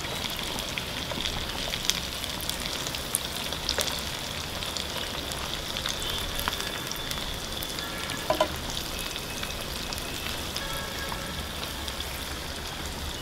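Potato donuts fry steadily in hot oil over a low to medium flame, a dense continuous sizzle and crackle with a few small clicks and no voices.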